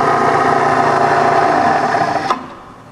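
A 1984 YCI Supermax Bridgeport-style vertical mill spindle running in reverse gives a loud, steady whirring hum, then a brief knock as it winds down and fades out.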